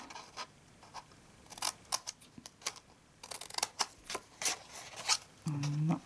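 Scissors snip through card in a series of sharp, close clicks and crisp cuts, irregular bursts with short pauses between them, and a brief low tone near the end.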